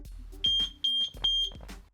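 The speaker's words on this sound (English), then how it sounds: "Clicking it will actually turn the alarm on until you turn it off." A ThirdReality water leak sensor alarm sounds three loud, piercing high beeps, each holding about a quarter second, with a faint voice in the gaps between them.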